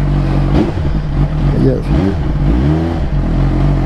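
A Suzuki GSX-R1000R sport motorcycle revs loudly and close through its exhaust, the engine pitch repeatedly climbing and dropping, with a brief spoken word from a man.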